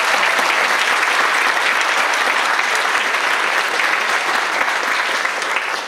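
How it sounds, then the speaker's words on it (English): A college opening-day audience gives a big round of applause for presenters, loud, dense and sustained clapping that carries evenly throughout. "So can we have a big round of applause?"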